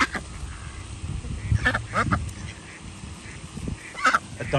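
Several ducks at Lake Carola in Sanford, Florida, quack and honk nearby while being fed bread, scattered loud calls in clusters with brief gaps, a final sharp burst near the end over low outdoor noise.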